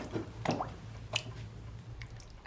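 Wet, squishy squelches from black pudding mixture with blood, spice and double cream being worked by hand, a few soft close-up squishes and drips at low volume.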